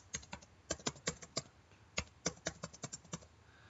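Computer keyboard typing a command for installing OpenSSH server on Ubuntu Server, an uneven run of about twenty crisp key clicks in short bursts, close and quiet with no talk.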